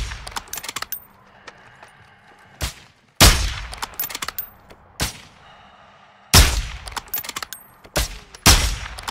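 Video game gunfire: loud, sharp shots and short rapid bursts spaced out irregularly, with quieter ticks and clatter between them and no talk.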